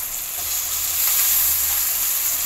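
Tomato and ridge gourd sauté in a hot pan with onion and garlic for a groundnut kolambu, giving a loud, steady, close sizzle with no pauses.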